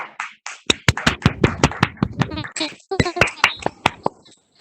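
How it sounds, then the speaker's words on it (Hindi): Students at a government school clapping: loud, sharp individual claps in an uneven rhythm, interleaved with voices talking and calling out, tapering off at the end. "तो जोरदार तालियां बजाओ आपके अपने लिए"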